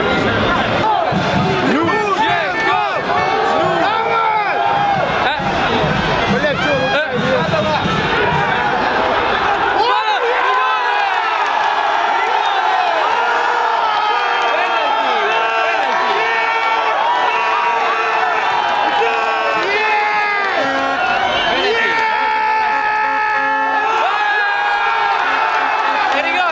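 A large football crowd at Russia vs. Spain cheers, whoops and chants, loud and dense, with surging shouts and overlapping voices. Individual people talk over the crowd noise throughout.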